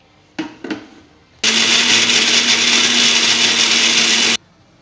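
A kitchen mixer grinder whirs loudly as it grinds coconut and cumin into a paste, running steadily for about three seconds after a couple of short clicks and knocks, then stopping abruptly.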